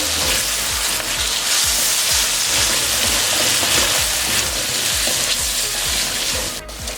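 Whole spices (black pepper, cumin seeds, cinnamon) roasting in a pan for chana masala, giving a steady, dense sizzle and crackle throughout, close and loud with no voices.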